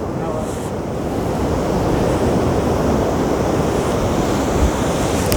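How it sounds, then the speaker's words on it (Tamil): Sea waves break and wash onto a shore after rain, a loud continuous roar of surf with rushing wind across the whole stretch, no speech heard. "கடல் அலை இங்கேருந்தே தெரியுது"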